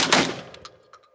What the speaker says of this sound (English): we can have a 12 gauge high capacity semi-automatic.